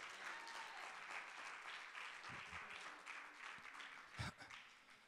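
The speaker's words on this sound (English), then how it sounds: "Somebody give God, come on, a hand clap" A crowd applauds in a dense, continuous patter of clapping, fairly distant and even, with a few louder thumps near the end.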